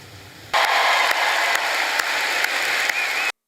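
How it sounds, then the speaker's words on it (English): Sustained applause from a crowd at a public event, a dense loud wash of clapping that starts abruptly after a brief quiet moment and holds steady for about three seconds before cutting off. "The crowd applauded"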